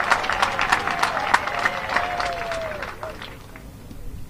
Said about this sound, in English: Let's give the GS a thunderous applause to welcome him to our province.